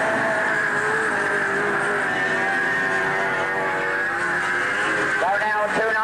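Race cars at Ringwood raceway in 1986 give off a continuous loud engine drone with a steady tonal whine, and a few rising engine notes cut in near the end.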